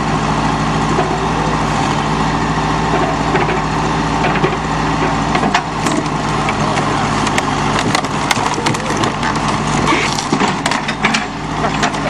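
A scrapping machine crushes a plastic-bodied Saturn car at a farm scrapyard. Repeated cracking and splintering crunches sound over a steady idling engine, and a voice talks over it.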